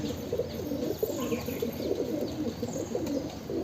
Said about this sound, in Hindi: और मुझे नहीं पता ये जंगली कबूतर है या कोई दूसरा ब्रीड है, हरे में ही है।